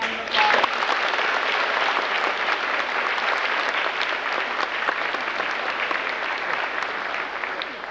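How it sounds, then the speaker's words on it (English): A middle school graduation audience applauds the graduating students, dense sustained clapping from a large crowd filling the hall at steady loudness throughout. "let's give them another round of applause"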